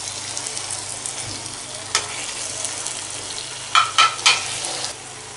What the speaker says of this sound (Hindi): अंडे मिक्स करके 3 से 4 मिनट तक हम इसको पकने देंगे